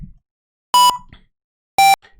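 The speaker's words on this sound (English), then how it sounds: "it makes a couple of beeps here and there whenever it makes an alert" Two short, loud electronic alert beeps from the Simple Senet computer game, each a bright tone lasting about a fifth of a second, spaced roughly a second apart with near silence around them.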